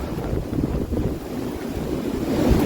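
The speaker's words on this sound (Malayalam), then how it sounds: "നമ്മുടെ റൈറ്റ് സൈഡിലായിട്ട് നമുക്ക് വെള്ളം ഒഴുകണ കാണാം കേട്ടോ" Steady rushing stream water flowing nearby on an offroad trail in Germany, a continuous broadband wash with gusty swells, no voices.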